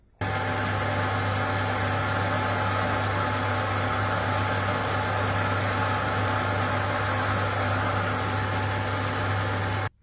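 A metal lathe takes a 1 mm cut on a graphite thrust bearing being customized for an oldtimer, giving a steady, loud motor drone with a constant low hum throughout and no talking.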